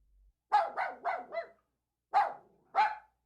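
An old dog barks four times in a quick run, pauses, then gives two more separate barks, loud and close in an otherwise quiet setting.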